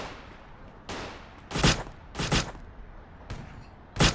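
Gunfire in a gangster crime video game: several loud, close bursts of shots come in clusters with short pauses between them, over a low background rumble and no speech.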